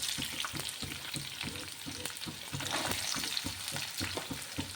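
Chopped onion sizzles and fries steadily in a hot pan while cooking chilli chicken, with a constant crackling hiss and occasional stirring scrapes close by, no talking.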